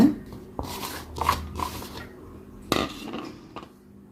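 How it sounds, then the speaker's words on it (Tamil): Chopped big onions tipped into a bowl for rice flour bonda batter, giving a few soft thuds and clinks of utensils against the dish, close and fairly quiet with no talking. "ரெண்டு பெரிய வெங்காயம் கட் பண்ணி வச்சுருக்கேன் இதை சேர்த்துருங்க"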